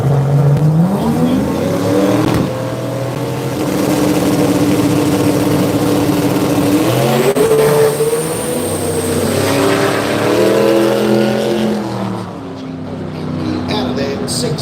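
A race car launches off the start line at a drag racing jamboree, its engine roaring loud and continuous with rising and shifting pitch over about fourteen seconds before easing off near the end.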